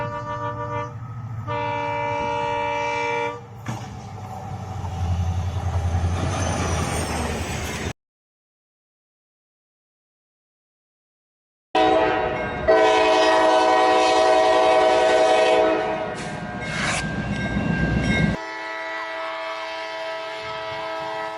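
A train rumbles loudly along the tracks with horn blasts and grinding metal, cutting out to silence briefly before the heavy rolling returns.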